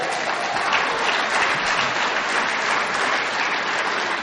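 A roundup crowd at a recovery speaker meeting in Kingsport, Tennessee, applauding a speaker's long sobriety: loud, dense, continuous clapping from a large room, uniform and sustained without any talk.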